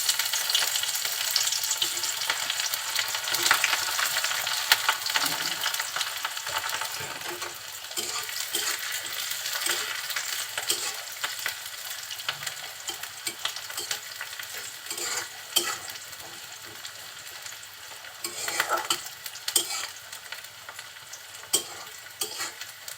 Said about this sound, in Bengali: তেলটা গরম হলে আমি কুচিয়ে রাখা পেঁয়াজ, রসুন আর কাঁচা ঝাল দিয়ে দিচ্ছি।